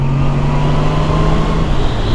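Honda Valkyrie Rune motorcycle with its 1800 cc six-cylinder boxer engine, a close, loud, steady low engine drone that holds its pitch, with no talking.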